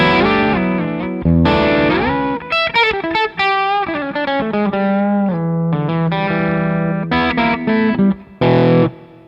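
Distorted electric guitar through a REVV D20 amp with its power section on, playing chords and fast melodic runs with a full, thick tone and sustained notes; no voices.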